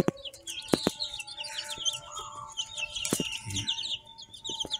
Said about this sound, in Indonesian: Lucu-lucu itu ayam ini.